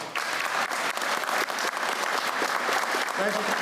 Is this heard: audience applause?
yes